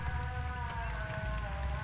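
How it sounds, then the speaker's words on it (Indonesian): Rain falls steadily at a tree-lined beach in Samboja, a soft continuous patter and hiss of drops on surfaces, fairly faint and close, with no voices over it. "Kondisi lagi hujan."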